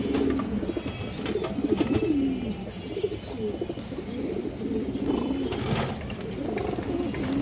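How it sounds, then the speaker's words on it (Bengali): Pigeons of China khaki and Muslim-dom breeds coo steadily in low, rolling phrases that overlap throughout, close by, with faint chirps above and no talking. "কবুতরগুলো কিন্তু খুবই চঞ্চল দর্শক,"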